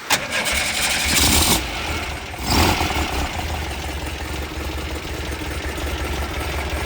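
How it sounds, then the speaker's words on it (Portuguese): A 1972 Volkswagen Variant engine cranks and catches with a loud burst, surges once more, then settles into a steady low idle that continues to the end. "Pode dar partida lá para mim de novo."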